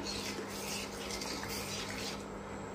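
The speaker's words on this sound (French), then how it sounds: "Je vais le mélanger pas qu'il colle" A spoon stirs fish and shellfish in armoricaine sauce, making a faint, continuous scraping and sloshing against the pot with a low steady hum underneath and no voices.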